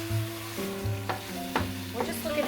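Garlic powder, about 1.5 tablespoons, browning in a pan that is not very hot for gluten-free lasagna, with steady soft sizzling and a few scrapes and taps of stirring, close and alone with no talk.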